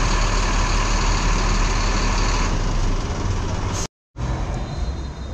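Mercedes-Benz O500R Marcopolo Paradiso 1050 G7 coach of Pássaro Marrom idling at a bus stop, a loud steady diesel rumble throughout, broken by a brief dropout near the end before the engine drone resumes.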